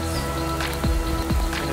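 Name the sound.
rain falling at a campsite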